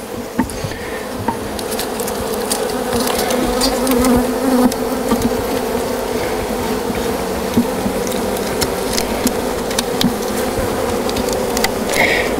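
A dense, steady buzz of many honeybees swarming close by during removal of a hive from a building, continuous throughout with occasional light knocks and taps from handling.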